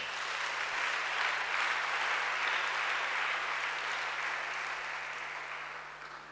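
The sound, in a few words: church congregation applauding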